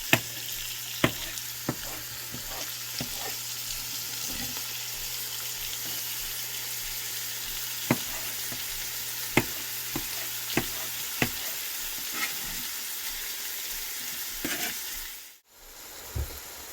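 Celery and onions fry in a pan with a continuous sizzle and scattered sharp pops and crackles throughout. The sound cuts off abruptly near the end, and there is no talking.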